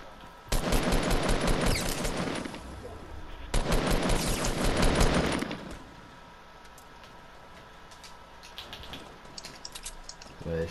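Dense automatic gunfire rattles in two long loud bursts during a Fortnite battle royale match, followed by quieter scattered shots and clicks in the background.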